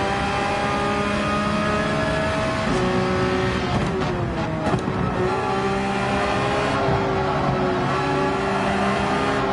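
A race car in Gran Turismo 7 at Brands Hatch drones at steady high revs, then dips in pitch through quick downshifts around the middle, with brief blips before the engine settles back into a continuous loud whine.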